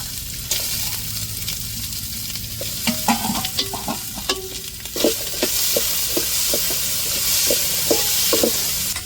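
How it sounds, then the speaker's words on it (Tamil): A ladle stirring and roasting in ghee for a Diwali sweet, with a steady frying hiss and a close run of rhythmic metallic scrapes and clinks against the pan. "இப்போ கரண்டி வச்சு நல்லா வதக்கி விட்டுக்குருவோம்"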